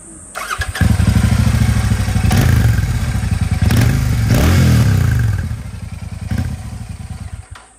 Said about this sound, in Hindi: भी बात करूँ सुपर मीटियोर की, एक बार इसकी साउंड आप लोगों को सुना देता हूँ।